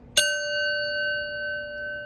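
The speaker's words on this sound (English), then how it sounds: "before I do my readings, I like to hit on the bell" One strike of a bell rings out clearly, followed by a long, pure, sustained tone that slowly fades while still ringing.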